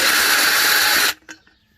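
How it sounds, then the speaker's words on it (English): Carbide bit boring out an aluminum intake manifold, a loud, high, whining power-tool buzz that stops abruptly, followed by a brief clunk and fading hum. "These are carbine bits, and these are to cut aluminum."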